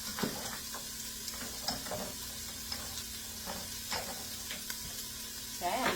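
Onions frying in a pan, a steady close sizzle and crackle with occasional stirring scrapes, continuing alone throughout.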